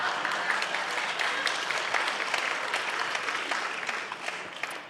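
Dense audience applause follows a reading at a literary seminar, a steady wash of many hands clapping at moderate distance that tapers slightly toward the end.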